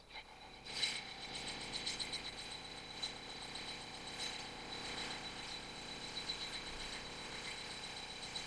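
Forstner bit boring slowly into a turning wood blank held in a lathe chuck, a low steady whirring with faint rhythmic clicking and rattling, quiet and continuous, with no speech.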